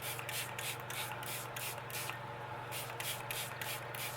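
A spray bottle spritzes a tea filter during a crafting session, giving a rapid series of close, hissing bursts in an even rhythm.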